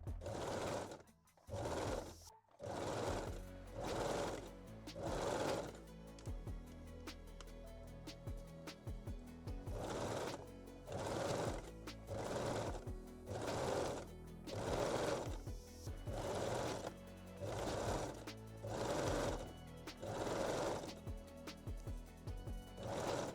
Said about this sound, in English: You can lightly stretch the elastic as you sew and finish both leg openings.